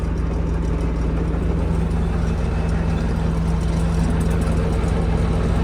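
A heavy diesel engine of a T-150 crawler tractor runs steadily at idle, a constant low rumble with a droning hum, close by and continuous throughout.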